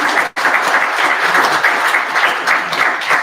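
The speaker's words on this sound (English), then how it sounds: "round of applause" An audience at a data engineering meetup in Sydney breaks into a round of applause, with dense, sustained clapping that carries on for several seconds after a brief gap at the start.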